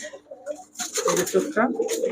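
Giribaz high-flyer pigeons coo in soft, throaty bursts close by, a short murmur at first and then fuller, overlapping calls.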